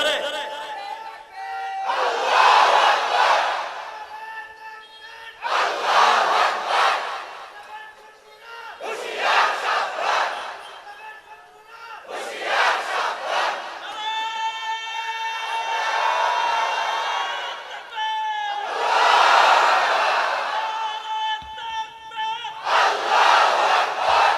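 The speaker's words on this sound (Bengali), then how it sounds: "জোরে মারেন তাকবীর" A large crowd chants the takbir (Allahu Akbar) loudly in unison, in about seven strong, evenly spaced bursts of massed voices separated by short pauses.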